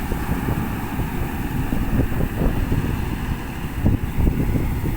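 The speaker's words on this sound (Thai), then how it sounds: "โอ้ลมแรงมากพี่น้อง" Strong wind buffets a 2009 Worapot Kanchang combine harvester working a rice field, a steady, loud roaring rush with low gusty rumble throughout.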